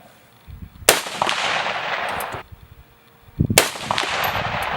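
Two sharp, loud reports from a 6mm ARC rifle at an outdoor shooting range, each a sudden crack followed by a long rolling echo, spaced about three seconds apart, with no talking.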